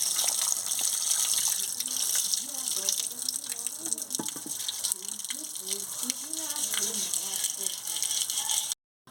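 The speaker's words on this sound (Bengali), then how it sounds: "ভালো করে ধুয়ে নিচ্ছি একদম পরিষ্কার" Singhi fish being rinsed thoroughly under running tap water, a steady gush and splash with faint rattling of the fish and bowl, continuous and close, ending abruptly.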